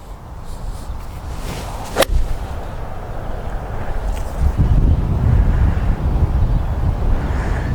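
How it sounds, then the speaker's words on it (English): Strong wind buffets the microphone in a steady low roar, with a sharp crack near the start and gusts building toward the end. "it's very windy"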